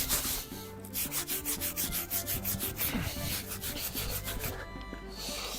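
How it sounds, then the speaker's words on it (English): A wire brush scrubs a freshly forged steel stake anvil clamped in a vise, giving quick, rhythmic back-and-forth rasping strokes that are close and moderately loud, then a short pause and some slower scrubbing. "we're gonna go brush it now at the vise, just for aesthetic reasons"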